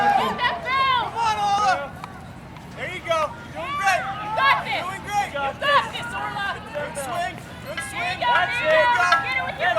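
A crowd at a Spartan Sprint obstacle race in Montana cheers a runner with continuous shouting and babble of many voices, close and lively, rising and falling throughout.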